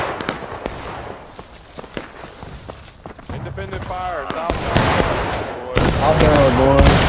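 Musket fire in a Civil War-style multiplayer battle game crackles as scattered sharp reports and distant volleys, with voices shouting and talking over much of it.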